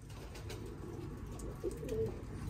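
Pigeons in a loft, including young tumbler pigeons, giving soft, low coos amid a quiet background murmur, close and fairly faint.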